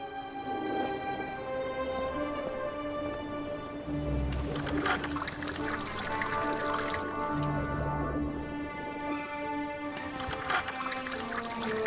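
Water running steadily from a tap in The Raven video game, a continuous trickling pour over a background music bed.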